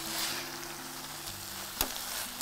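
Tuber chunks sautéing in a pan, a steady soft sizzle and crackle with occasional stirring scrapes and one sharp clink near the end.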